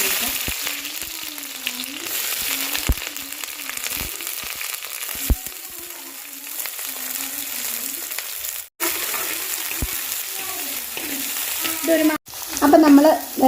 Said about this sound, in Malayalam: ഒരു സ്പൂൺ കടുക് ഞാൻ ഇട്ട് കൊടുക്കുകയാണ്